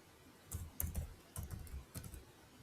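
Password being typed on a computer keyboard during a login, heard as a few short bursts of soft key clicks spread over a couple of seconds, close and fairly quiet.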